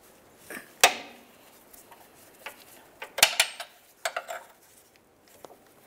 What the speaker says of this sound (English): I'll use a 15 millimeter wrench to hold the bolt side and an 18 millimeter to remove the nut.